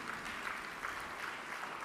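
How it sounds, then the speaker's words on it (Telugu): A congregation claps together in church, a steady, even wash of applause that holds throughout at moderate distance, with no voices standing out. "ఒకసారి చప్పట్లు కొట్టి దేవుని స్తుతిద్దామా?"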